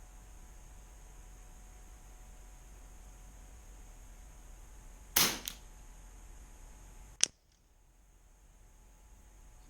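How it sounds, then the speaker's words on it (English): Two rifle shots from a Cooey Model 78 ring out a couple of seconds apart, each a sharp, loud crack over a steady background hiss, the second cut off abruptly into quiet. "Maybe I'll just keep 2 more shots in the same aim point."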